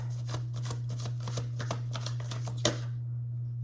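Cards being shuffled in a quick riffle of crisp clicks, close up over a steady low hum, ending with a sharp snap and silence.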